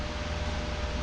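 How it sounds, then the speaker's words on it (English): Fan running in a workshop, a steady broadband whoosh, close and fairly loud, alone without talk for about a second. "Now you have to excuse the noise of the fan because I need the fan."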